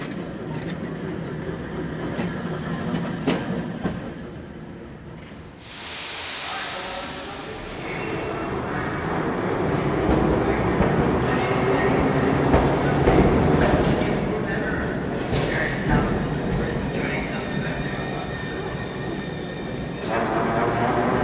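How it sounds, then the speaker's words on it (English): Christchurch heritage tram Dunedin 11 trundles up High Street, a steady rolling rumble with rail clatter rising and holding loud, preceded by a sharp noise burst and overlaid with voices talking. "Here's Dunedin 11 again, now trundling up High Street towards the intersection with Hereford and Colombo Streets"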